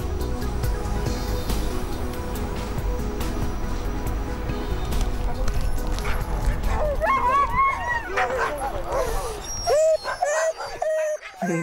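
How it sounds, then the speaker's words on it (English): Sled huskies in harness before an Arctic run yelp, bark and whimper in an excited chorus, the cries growing clearer and more frantic toward the end over a busy background. "Perhaps one of the most evocative sounds of the Arctic. The huskies are in harness"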